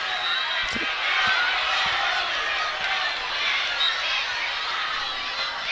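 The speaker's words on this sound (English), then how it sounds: "Noise of the crowd there." A large crowd roars continuously at a ladies' Gaelic football final in Dublin. The noise is a dense, steady wash that stays loud throughout, with faint thuds and a commentator's voice underneath.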